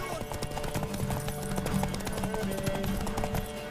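Horse hooves clip-clop in The Witcher 3, a steady run of close, even hoofbeats with game music and ambience underneath and voices talking over them.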